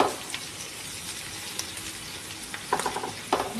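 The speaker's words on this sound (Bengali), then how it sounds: "এই আলু পনিরটা আমি তখন ঢেলে দিয়ে আবার তার সাথে ভেজে নিলাম" Potato and paneer fry on a hot tawa with a steady sizzle, joined by a few sharp scraping stirs near the end.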